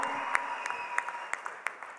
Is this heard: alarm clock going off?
no